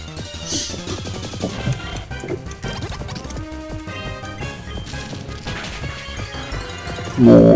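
Pokémon attacks in a video game blow up enemies with repeated smashing, crashing impacts and game effects over background music, ending in a loud burst.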